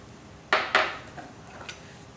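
Two quick clinks of a metal spoon against a bowl while baking powder and salt are stirred together for a pumpkin Bundt cake, followed by a few faint lighter taps in a quiet kitchen.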